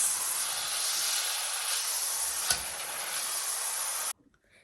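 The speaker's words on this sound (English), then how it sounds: "Make sure to be careful because the oil is splashing." Vegetable oil hissing and sizzling steadily in a preheated pan as beef is seared on all sides, one brief sharp spatter near the middle, then it cuts off abruptly.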